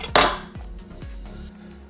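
A kitchen knife cuts small mushrooms into large pieces for courgette lecsó, landing as four crisp, close taps on a board about half a second apart, alone and fairly clear.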